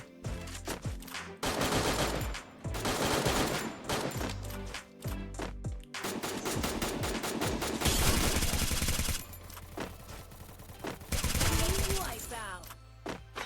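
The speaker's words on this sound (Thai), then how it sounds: "เสียง แบบ นั้น เมื่อกี้ คือปืน ที่เราต้องการกระสุนใช่หรือ" Rapid bursts of gunfire crack out in loud volleys in Free Fire, with automatic fire and single shots broken by short pauses, over a dense, busy game soundscape.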